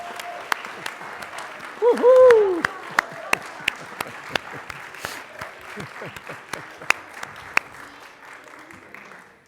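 A congregation applauds with scattered, sharp claps and a rising whoop of cheering early on, the clapping thinning out and fading toward the end.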